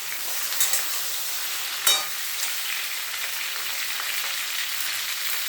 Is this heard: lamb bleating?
no